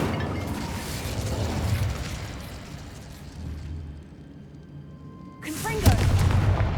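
Incendio fire spell in Hogwarts Legacy blazes as a continuous crackling roar that dips quieter, then erupts again in a fresh loud burst, close and heavy, with voices mixed in.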